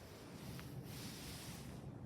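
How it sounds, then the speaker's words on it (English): Cold, strong wind blows across water outdoors, a steady, soft rushing roar with buffeting against the microphone and faint surf-like wash underneath, quiet and continuous. "Look at that wind blowing the water off."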